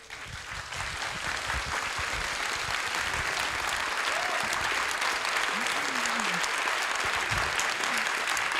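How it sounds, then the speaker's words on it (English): Sustained audience applause after a lecture at a literary festival, a loud, even roar of clapping throughout, with a few faint voices in the crowd. "A round of applause"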